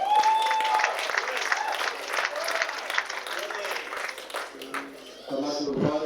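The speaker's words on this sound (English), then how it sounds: "And one round of applause for the Empire," An audience applauds steadily at a junior tennis nationals presentation for the under-18 singles, with a dense wash of many hands clapping throughout. A voice speaks briefly near the end.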